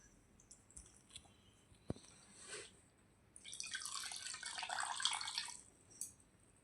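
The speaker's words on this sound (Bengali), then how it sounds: "রুমালটাকে আমি ভিজিয়ে নেব।" A handkerchief is dipped and wetted in a bowl of water, giving soft splashes and trickling drips after a sharp click, close and fairly quiet.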